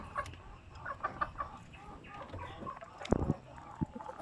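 Native chickens cluck softly and intermittently nearby, with a few low murmurs and a louder brief flutter or scuffle near the end, all fairly faint.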